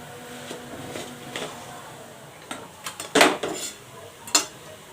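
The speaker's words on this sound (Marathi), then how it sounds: "ड्रायफ्रूट मस्त असे मिक्स करून घ्यायचे आहेत आपल्याला" Dry fruits are stirred together in a pan while dates are mashed in, giving a few scattered scrapes and clinks of a utensil against the metal. The sounds grow louder and more bunched toward the end, with a faint hiss underneath.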